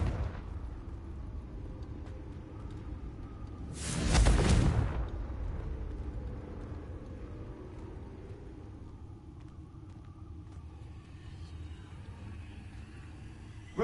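A Confringo fire spell detonates in the fantasy game Hogwarts Legacy: a single loud, booming blast that rolls off into a fading rumble, set against a quiet, low ambient background.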